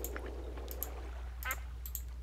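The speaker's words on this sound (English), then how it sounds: "I keep hearing ducks and noises, scary noises" Ducks quacking in a Minecraft world, several short nasal calls scattered over a steady low hum, moderately close and fairly quiet.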